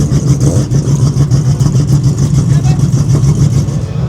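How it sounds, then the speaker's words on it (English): A Nissan GT-R race car on a shakedown run pulls hard down the track, its engine a loud, close, pulsing drone rising as it works through the gears, with a voice talking over it. "Shakedown run, go through the gears, see what she does, and take her from there."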